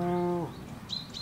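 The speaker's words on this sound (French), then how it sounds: "Ce matin, il y avait les vaches aussi, elles sont allées boire." Cows mooing in the countryside in the morning, a single drawn-out low moo heard from a distance, followed by faint bird chirps over quiet outdoor ambience.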